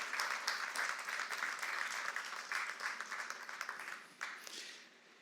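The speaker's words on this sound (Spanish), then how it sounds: "Yo creo que eso merece un aplauso al Señor," A church congregation at a Spanish-language worship service applauds, a dense, lively wash of many hands clapping together that holds steady before trailing off near the end.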